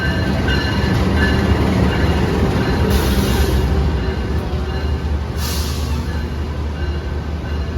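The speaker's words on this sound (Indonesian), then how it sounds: "Kereta api Wijaya Kusuma masuk di jalur 1." The Wijaya Kusuma train rumbles steadily into a station platform close by, with a low continuous roar, the clatter of wheels on rails and faint brakes hissing now and then.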